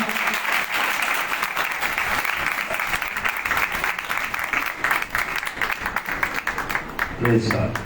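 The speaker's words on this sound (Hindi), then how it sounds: "जोरदार तालियां" Enthusiastic applause from a congregation at a live Christian worship gathering in Makkah Colony, Lahore, as a guest is welcomed with a garland: sustained, dense clapping that thins toward the end while a voice comes in briefly.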